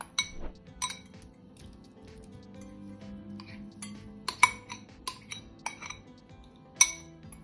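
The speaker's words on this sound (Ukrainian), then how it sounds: "Змішуємо два яйця та один білок із сиром кисломолочним." Two eggs and an egg white are mixed with cottage cheese in a bowl, giving irregular sharp clinks and taps of a utensil against the dish over a soft background hum.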